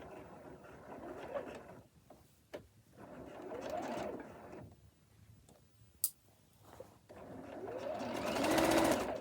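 A sewing machine runs in bursts of steady stitching while applying bias tape to a shirt hem, starting and stopping with short pauses and a few clicks between runs.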